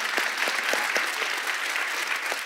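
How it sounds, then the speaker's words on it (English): Audience applause at a women's church sisters event, a steady wash of clapping from a crowd filling the room, with a few sharper individual claps standing out and no voices on top. "And it's great to clap for that"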